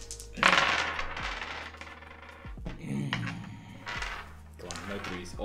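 Dice are rolled and clatter on a hard surface in several quick bursts of rattling, bouncing hits, each settling briefly, with people talking faintly in between.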